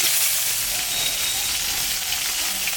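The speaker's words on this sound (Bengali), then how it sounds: "এখন এই যে পেঁয়াজ কাটিয়ে রাখছি, পেঁয়াজের পাতা, এগুলো আমি এখন দিয়ে দেব।" Onion greens are added to a pan of frying pangas fish curry with cumin and bay leaves, giving a steady, loud, continuous sizzle and hiss with no talking.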